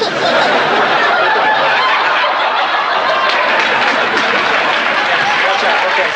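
A sitcom studio audience applauds during Full House, a loud, steady wash of clapping that holds without a break from start to finish.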